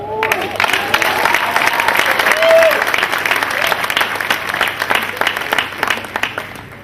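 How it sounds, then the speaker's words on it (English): An audience at an accountancy institute's induction ceremony for new members breaks into loud, sustained clapping from many hands that thins out toward the end, with a voice briefly audible over the applause. "I saw you clapping"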